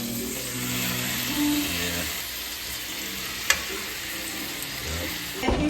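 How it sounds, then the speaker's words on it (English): A steak sears loudly in a hot pan just after being flipped, giving a steady, close sizzle with one sharp click partway through and a scrape near the end. "Flip the steak."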